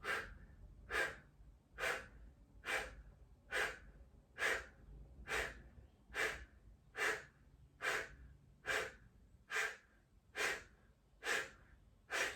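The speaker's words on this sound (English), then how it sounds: "I'm going to blow the air out the mouth and make short, small snaps with the belly, pumping the belly and fire breathing" Kapalbhati fire breathing: a steady series of about fourteen short, forceful exhales pushed through the mouth, each a sharp breathy puff spaced under a second apart, close and fairly quiet, with no talking.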